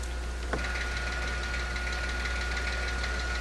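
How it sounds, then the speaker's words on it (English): A farm tractor engine catches and settles into a steady, rumbling idle at close range, a low continuous drone with a faint knock throughout. "I hear a tractor getting started."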